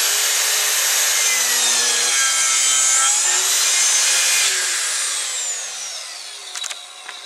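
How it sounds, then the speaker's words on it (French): A hand saw cuts through wood while a woodworker saws an angled tenon joint, with steady close rasping strokes that slow and fade toward the end, followed by a few light taps. "J'ai fait tous mes traits de scie ce côté-ci"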